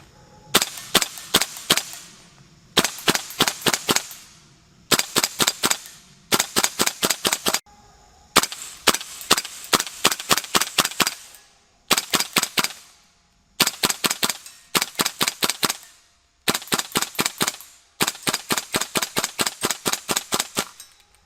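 KWA PTS Mega Arms MKM AR-15 training rifle firing at targets in quick rapid bursts of sharp, snappy cracks, about eight burst groups separated by short pauses, close and clear.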